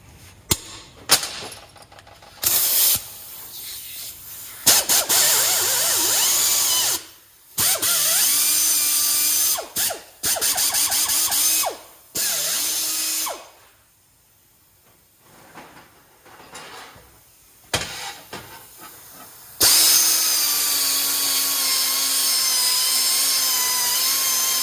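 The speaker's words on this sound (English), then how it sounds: "There's the bit for the air hammer." A compressor-driven air hammer fitted with its bit runs in loud, harsh bursts of rattling hiss, stopping and starting several times with silent gaps between, then running continuously at the end; no talking.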